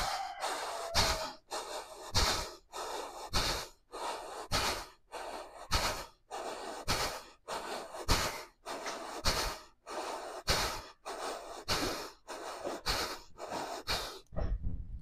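Deep yoga breaths taken while holding a side bend with palms pressed together, in a pose for knee pain, about eight slow, even cycles of loud, close inhales and exhales with no talking.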